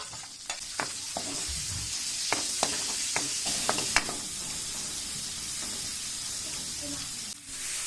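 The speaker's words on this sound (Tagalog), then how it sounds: "Sa parehong kawali, igisa ang bawang. Igisa rin ang sibuyas." Garlic and onion sauté in a pan, a steady close sizzle and hiss with occasional scraping stir taps from a utensil early on.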